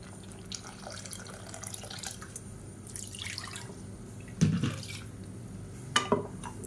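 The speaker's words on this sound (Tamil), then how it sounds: "இப்போ இன்னும் கொஞ்சம் தண்ணி சேர்த்துக்கிறேன்." Water is added to a simmering egg thokku gravy in a kitchen pot, heard as quiet splashes and drips with a couple of brief, louder splashes near the end and no talking.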